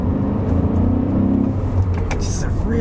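A 2002 BMW E39 M5 with its V8 engine and stock exhaust accelerates with a steady, smooth low drone, heard from inside the car beneath a person talking.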